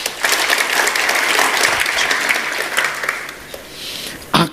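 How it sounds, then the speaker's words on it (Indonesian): Congregation applauding during a Tuesday Bible church service: loud, sustained clapping from a crowd that runs steadily, eases slightly toward the end, then ends with a brief burst. "Yang setuju tepuk tangan."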